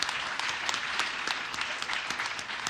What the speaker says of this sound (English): If I could ask you to give her a massive round of applause,